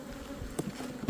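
Close, continuous hum of honeybees swarming over frames as a beehive is opened and inspected, with a few brief knocks near the end.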